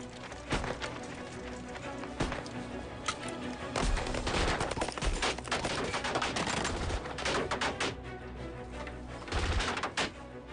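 Battle gunfire in a 2012 war film, Age of Heroes: rapid rifle and machine-gun bursts crackle amid the chaos, with scattered louder shots and rushing movement throughout.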